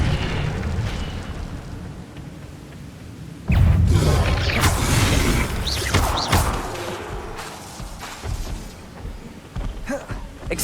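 Spell effects from the video game Hogwarts Legacy: a dense wash of whooshes, crackling bursts and booming impacts that swells suddenly loud partway through and stays busy, with sharp flares and rumbling blasts stacked over one another.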